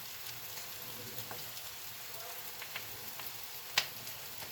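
Two sliced onions sizzling in an uncovered pan on the stove, a soft, steady crackle and hiss with scattered tiny pops and one sharper snap near the end, fairly quiet and without voices.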